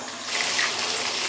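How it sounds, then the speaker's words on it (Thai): Water gushes from a tap, a steady broadband rush that swells slightly after a moment and keeps flowing, close and with no voices over it. "ผมเปิดน้ำอีกหน่อยเอง"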